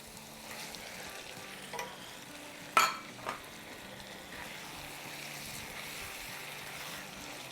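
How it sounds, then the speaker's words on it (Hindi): Bone-in chicken pieces frying for korma in a pot over medium-high heat, giving a steady low sizzle with one sharp clatter and a few brief scrapes partway through; no one talks. "बस इसे हम जब तक ही फ्राई करेंगे जब तक कि चिकन का कलर थोड़ा सा चेंज ना हो जाए।"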